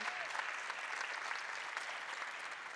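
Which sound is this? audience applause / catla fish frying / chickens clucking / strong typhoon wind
audience applause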